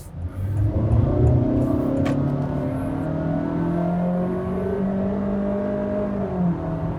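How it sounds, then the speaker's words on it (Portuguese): Inside a 2026 Honda WR-V EXL, the naturally aspirated engine drones through the CVT gearbox while driving on a country road, a loud, steady hum that swells early and then holds evenly throughout, with no talking. "Típico dos carros com motor aspirado e câmbio CVT, esse ruído invadindo a cabine."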